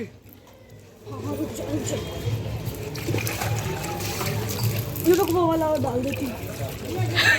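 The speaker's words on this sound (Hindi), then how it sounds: "ये कलर का पानी प्रिपेयर करा है जीजा जी के लिए। अब जीजा जी के ऊपर डालेंगे।" Coloured Holi water is sloshed and stirred in a container while several voices chatter over it, with a brief louder splash toward the end.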